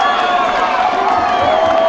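A home crowd at a San Mateo versus Chabot college football game cheers in a steady, loud roar with whoops and scattered clapping, urging the defense on.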